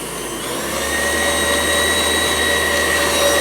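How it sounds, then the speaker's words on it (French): A kitchen blowtorch flame roars steadily while it browns the cream for a mille-feuille, a loud, even, close hiss that holds for the whole stretch. "J'allume mon chalumeau et je passe ma flamme gentiment comme ceci."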